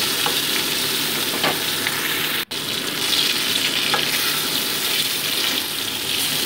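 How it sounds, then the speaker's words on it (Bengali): A second batch of bhola fish sizzles loudly and continuously in hot oil, with a brief dropout in the middle and faint scraping as the pieces are turned. "একইভাবে সেকেন্ড ব্যাচের মাছগুলোকেও আমি ভেজে নিচ্ছি।"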